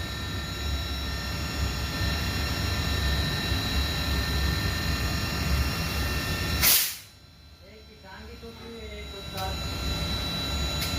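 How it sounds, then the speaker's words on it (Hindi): A Panasonic inverter air conditioner compressor runs at high RPM as a loud, steady mechanical whine and hum that stops abruptly partway through, leaving a quieter background before resuming. "इसको देखो, मैं फुल ताकत दी हुई है। ये आरपीएम बढ़ गए कंप्रेसर के।"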